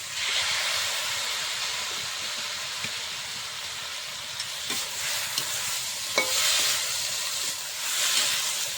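Small spiced fish fry with tomato and green and dry chilli paste in a pan, giving a steady close hiss and sizzle with occasional scraping stirs and no voices.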